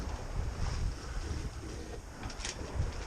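Wind blowing over a Dufour 3800 sailboat under way, a steady low rumble of gusts buffeting the microphone, with a faint hiss of water around the hull and no voices.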